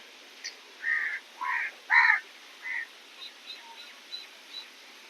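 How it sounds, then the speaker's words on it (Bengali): Crows gathering to be fed in the morning, several loud harsh caws in a quick cluster close by, then quieter, more distant calls trailing off against a faint hissing background. "এই যে কাকেরা সব এসেছে,"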